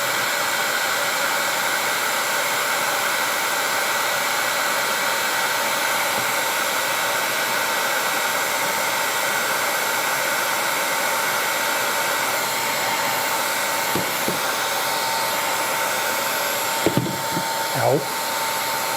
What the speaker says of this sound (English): Surprise, heat guns are hot.